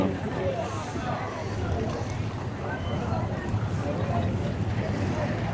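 Strong wind blows over rough sea off Pattaya in the cool season, a dense, steady roar of gusts and breaking waves around a boat with no pause from start to finish.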